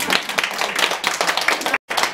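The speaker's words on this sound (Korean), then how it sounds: "박수를 주세요." Audience applause during a church sermon, dense clapping from many hands filling the space with a brief gap near the end before resuming.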